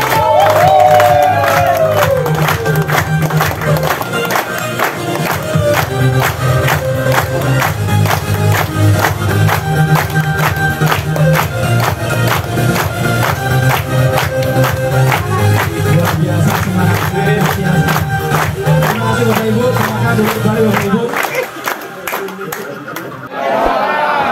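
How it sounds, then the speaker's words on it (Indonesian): An audience at a company sales meeting in Semarang claps and cheers loudly in a sustained burst of rhythmic applause with whoops, while music or an amplified voice carries underneath before the noise drops away near the end. "Kita beri aplaus yang luar biasa."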